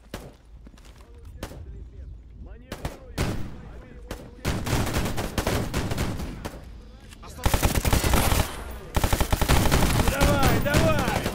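Video game gunfire during a raid on the Chernobyl nuclear power plant, with scattered single shots giving way to loud, tightly grouped bursts and sustained automatic fire, with a voice talking over parts of it.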